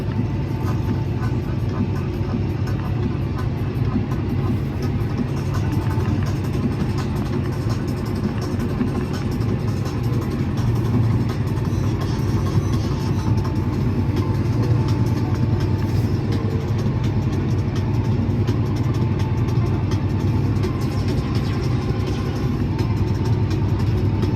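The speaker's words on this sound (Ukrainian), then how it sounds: "Так, Вась, виїхали за гонки, розворачуємося." Fendt tractor engine driving and turning around in a field during sowing, a steady mid-pitched drone with constant low rumble, moderately loud and unbroken for the whole stretch.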